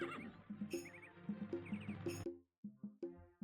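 A horse in the video game Daggerfall Unity lets out a loud, quavering neigh that breaks off abruptly, followed by a few short snorting whinnies close by.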